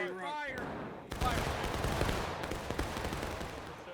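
A line of soldiers fires a musket volley in the War of Rights video game: a short voice first, then one sudden crashing blast that rolls on as crackling, scattered shots and echoes.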